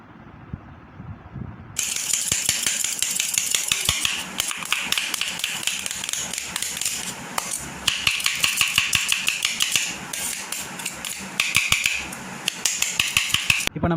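Chicken shawarma filling being stirred together with mayonnaise in a bowl, heard as a busy stream of loud scraping, clinking spoon taps and wet mixing noises, close up with no talking.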